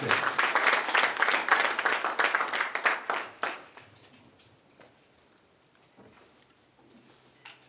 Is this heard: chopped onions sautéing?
no